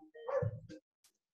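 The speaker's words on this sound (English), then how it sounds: "if you hear my dogs barking," A single short dog bark with a slight whine, fairly close, followed by a brief faint sound and quiet.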